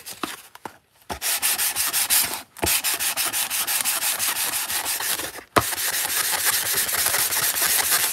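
Hand sanding of a miniature concrete sidewalk with 80 grit sandpaper: close, loud rasping strokes in a rapid back-and-forth rhythm, broken by two short pauses, with no talking.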